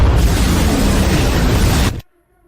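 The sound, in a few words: main cannon firing at full power, animated battle effect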